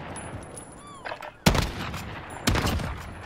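Video game gunfire: two sharp, loud shots about a second apart, each with a decaying tail, over a low steady background hum.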